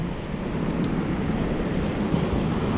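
Sea surf washing onto the shore, a steady broad roar of waves mixed with wind buffeting the microphone, constant and fairly loud for a few seconds.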